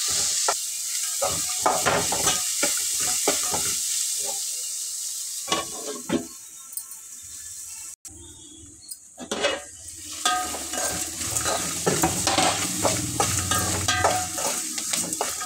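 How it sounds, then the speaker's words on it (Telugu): Dried red chillies with urad dal and mustard seeds crackle and sizzle in a pan as a spoon stirs them, a loud, dense frying hiss with scraping and brief clinks and no talk. "ఎండుమిర్చి వేసి 1 మినిట్ మగ్గనిద్దాం."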